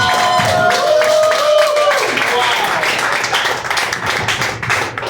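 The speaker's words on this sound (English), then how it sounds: "Give Rebecca a round of applause." A comedy murder mystery audience breaks into applause for Rebecca, many hands clapping in a dense, loud patter, with a tonal voice or chime sound fading out in the first two seconds.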